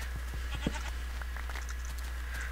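Goats bleat in a farming video game, several short bleats scattered across a steady low hum, moderately close with no talking.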